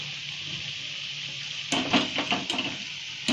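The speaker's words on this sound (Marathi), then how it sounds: "ही कांदा भजी दोन्ही बाजूने अशी आलटून पलटून भाजून घ्यायची, गॅस मध्यम लावायचा, चांगली खरपूस भाजून घ्यायची" Onion bhaji (kanda bhaji) frying in hot oil on a medium gas flame, a low steady sizzle that turns into louder crackling bursts and a few sharp stirring clatters.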